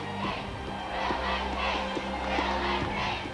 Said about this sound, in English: Crowds called their names and people turned up in costume